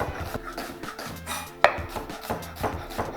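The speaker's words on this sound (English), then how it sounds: "I'm just cutting it into very fine julienne" A knife chops red onion into fine julienne on a board for a marinated sea bass mezze. The cuts are quick and steady, with one sharper clack partway through.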